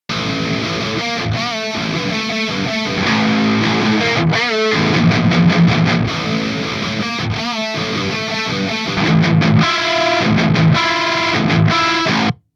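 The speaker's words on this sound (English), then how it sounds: "I'm going to jump between the two different guitar tones so you can hear the difference between them" Heavily distorted electric guitar, alternating between dual-tracked and quad-tracked tones, plays loud, chugging riffs with abrupt stops and restarts, dense and driving throughout.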